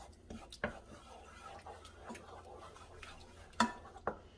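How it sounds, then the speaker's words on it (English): A spoon stirs a mixture in a pan for a quick chicken dinner, giving soft scraping with a few sharp clinks against the pan, fairly quiet and close. "Give this a nice mix."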